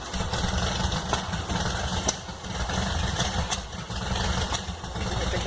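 A Volkswagen Beetle (Fusca) engine with its fuel mixture set wrong runs steadily and loudly close by, its idle roughening with slight swells in revving and a brief dip midway, with no talk over it.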